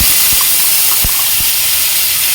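Black cumin, ginger, cumin and green chili paste go into hot oil for a Bengali fish curry, producing a loud, steady sizzling hiss throughout, broken by a few low thumps, close up and with no voices.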